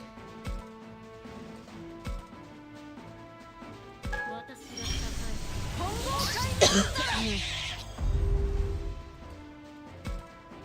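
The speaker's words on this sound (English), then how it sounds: "I need to ask my doctor about this cough" A person coughs several times in bursts, a few harsh hacks close up, amid quiet talking and background noise.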